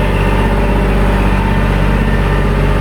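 A farm tractor engine idles close and loud, a steady rumbling drone with a regular low pulse and no other sounds.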